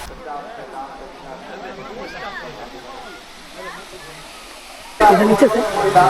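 The Moti Jharna waterfall in Sahibganj, Jharkhand, gives a steady rushing hiss beneath someone talking, then surges much louder and closer for the final second.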